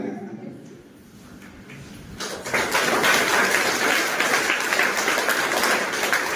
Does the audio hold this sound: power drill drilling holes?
no